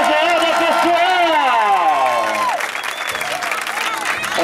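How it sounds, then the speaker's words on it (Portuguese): An audience at an evangelical tribute celebration for a woman pastor in São Paulo's east zone applauds and cheers steadily, mixed with sustained music and singing voices that fade partway through. "Uma salva de palmas pra nossa homenageada, pessoal!"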